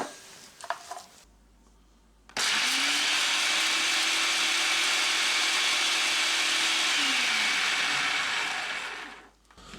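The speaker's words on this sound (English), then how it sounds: "take our half a cup of pecans and run them through the processor" A food processor whirs steadily as it chops half a cup of pecans, starting abruptly and running loud and continuous for about seven seconds before winding down, with no talking.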